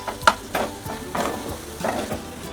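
Cooked chicken and fried vegetables are stirred together in a sizzling pan, with a spatula scraping in several separate strokes over a steady frying hiss.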